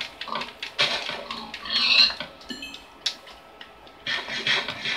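A pig in Minecraft oinks and grunts in several short bursts, fairly close, with no talk over it.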